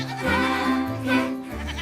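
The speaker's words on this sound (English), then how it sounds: "A bleating duet." Two goats bleat in turn on a farm, a pair of wavering, nasal calls overlapping in a close, loud duet with no talk.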